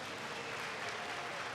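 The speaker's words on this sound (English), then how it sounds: "Can you give my mother a round of applause" Faint, steady applause from an audience at an awards ceremony, a brief even patter of clapping heard at a distance.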